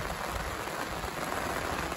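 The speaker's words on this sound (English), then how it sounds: "just check out this rain coming across here" Steady rain sweeps across Tappan Lake toward a boat with a bimini top, a dense, even hiss of drops on water that holds constant throughout without any voices.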